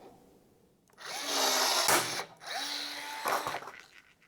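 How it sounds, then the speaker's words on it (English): A hand rivet tool is squeezed to pull a rivet while fitting front-mount intercooler ducting on an E46 BMW M3. Two close, gritty mechanical bursts end in a sharp snap as the mandrel breaks, with no talking. "use my rivet tool to rivet it"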